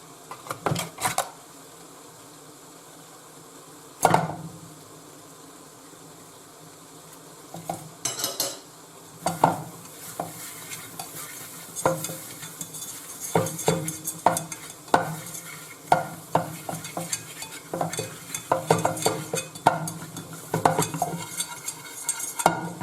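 Butter sizzles in a pan for lasagna while a utensil stirs and scrapes against the metal in busy irregular bursts, close and fairly loud, with a couple of sharp knocks early on and no talking.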